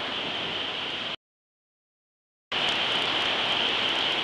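Steady, dense rain hiss pours down, cuts out completely for about a second, then returns just as strong.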